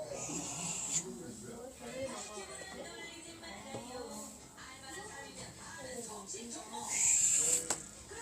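Soft, rough breathing of a sleeping baby with raspy, wheezy inhales, while adults murmur quietly nearby.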